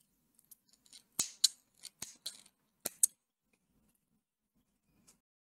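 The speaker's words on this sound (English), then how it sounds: "Cut your yarn and pull through." Scissors snipping yarn during a crochet beanie project, a handful of crisp close clicks and cuts bunched within two seconds, then near silence with one faint tick.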